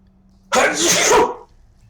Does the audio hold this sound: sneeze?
yes